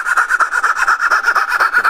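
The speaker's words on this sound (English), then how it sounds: "Now I use my fret saw, drop down to the bottom, and saw as close to that line as I can get without going below" A fret saw cuts dovetail waste in wood, its steady back-and-forth strokes rasping close and continuous in a quick, even rhythm, with no voices.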